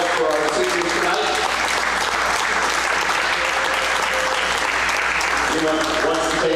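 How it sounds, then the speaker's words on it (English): Sustained applause from a crowd at a boys' high school basketball game honoring senior players, steady clapping filling the whole stretch with voices mixed in. "Got one more round of applause for our seniors tonight."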